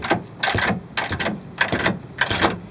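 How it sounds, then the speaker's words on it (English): A ratchet wrench on a 7/8 socket works a camber bolt loose, four close bursts of rapid clicking ratcheting in a steady back-and-forth rhythm. "once I break it, I could go in there with my regular ratchet"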